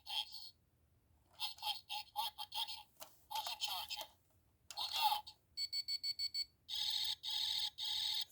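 Thinkway Karate Action Buzz Lightyear toy fires off electronic sound effects, a string of chirping beeps and buzzy bursts ending in a rapid pulsing zap pattern, close and fairly faint.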